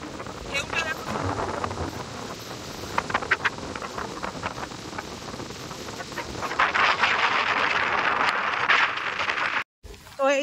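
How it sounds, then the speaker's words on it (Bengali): Strong wind buffets the microphone on a boat crossing choppy water, rumbling gusts that swell louder toward the end, with someone talking over it. "দেখো প্রচন্ড হাওয়া"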